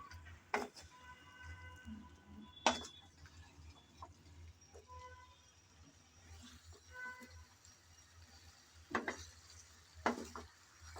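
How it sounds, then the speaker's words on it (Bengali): Chicken being stirred and braised in a pan, with a few sharp spatula clinks and scrapes against the pan at scattered moments over a steady low kitchen hum. "চিকেন দিয়ে আবারও নেড়ে চেড়ে ভালোভাবে কষিয়ে নিতে হবে"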